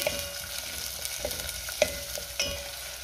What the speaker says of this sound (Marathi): त्यातच आपल्याला कांदा घालायचा आहे आणि कांदा थोडा ट्रान्सपरंट होईपर्यंत आपल्याला परतून घ्यायचा आहे